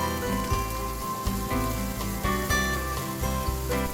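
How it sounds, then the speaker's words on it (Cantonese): Cut scallion pieces stir-fry in hot oil in a wok, giving a steady, dense sizzle that fills the whole stretch at an even level. "燒熱咗之後就將之前切好嘅葱段擺埋落嚟，"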